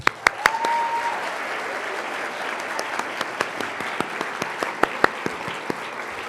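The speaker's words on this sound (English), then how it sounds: "Let's give them a round of applause." A crowd claps, dense at first and then thinning to scattered individual claps.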